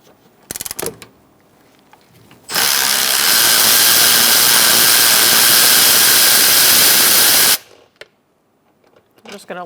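A power tool removing bolts on a 2002–2006 Toyota Camry runs in one loud, continuous whirring burst lasting about five seconds, preceded and followed by brief clanks and handling noises.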